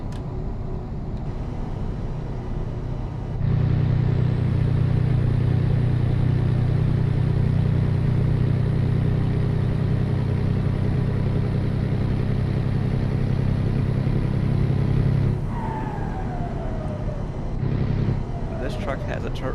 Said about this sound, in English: the engine that we're using in this truck has a turbo on it